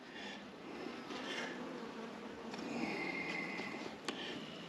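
Honeybees crowd an open nuc hive while feeding on a pollen patty, giving a steady close buzzing drone throughout with a brief sharper tick near the end.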